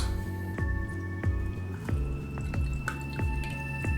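Lime juice poured for a Cosmopolitan cocktail, a steady trickle and drip of liquid into a jigger or shaker, close and fairly quiet over faint background hum.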